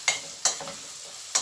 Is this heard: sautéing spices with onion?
yes